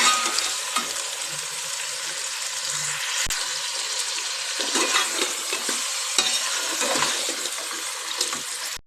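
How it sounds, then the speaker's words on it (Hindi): Chicken pieces fry in hot ghee with a loud, steady sizzle and crackle throughout, broken by occasional stirring scrapes and clinks of a utensil against the pan, with no voices. "अच्छे से हम इसको भी फ्राई करेंगे घी के अंदर"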